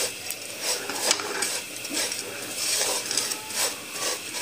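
Vermicelli frying with jaggery in a pan, stirred with repeated scraping and clinking strokes in a steady rhythm, close and fairly loud, with a faint sizzle underneath.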